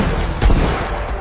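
Gunfire from bandits in an Indian Army action drama: a sharp burst of shots cracks out midway through a loud, continuous wash of noise.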